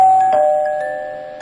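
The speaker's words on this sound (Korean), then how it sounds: "얼마 지나지 않아 초인종이 울렸고" A doorbell chime rings once with clear, sustained tones that ring out and fade slowly, ending with a faint second strike, in a quiet room.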